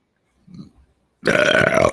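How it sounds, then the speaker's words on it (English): A long, loud burp erupts close up after a faint throaty lead-in, holding a croaky, resonant tone for most of a second with no speech around it. "Burp noises."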